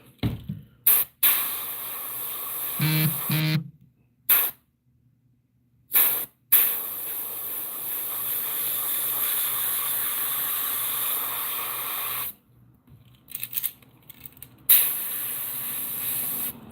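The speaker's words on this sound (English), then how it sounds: "I don't like trying to talk over the compressor." Airbrush spraying paint onto golden shiner fishing lures, with the compressor running: loud close hissing bursts broken by abrupt silences, with no talk.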